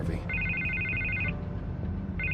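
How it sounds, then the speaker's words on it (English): A telephone rings in a Batman video game, a bright electronic trill in repeated bursts over low background music and ambience, with a brief pause before the ringing starts again. "I can't get the phone to stop ringing."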